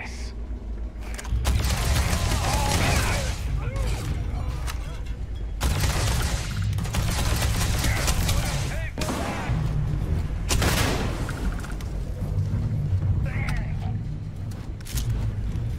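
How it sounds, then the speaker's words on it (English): Laser rifle fire in the sci-fi video game Starfield, rapid bursts of blasts with booming impacts repeating loudly across the clip amid game combat noise. "Ooh, laser rifle. I got this."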